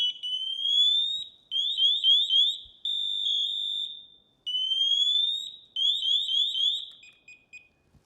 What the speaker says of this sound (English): That was the pack going into alarm.